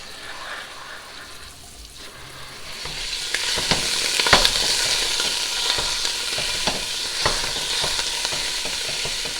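Ground beef sizzles in a pan as it cooks, a steady frying hiss with a few scraping stirs of the spoon. The sound starts quieter and swells louder after a couple of seconds, close by, with no talking.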